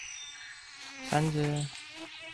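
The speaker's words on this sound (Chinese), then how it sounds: "运气不好就会一堆蚊子出现了" Buzzing mosquitoes from a video game, a brief swelling insect whine near the middle over a quiet background, with a short spoken phrase.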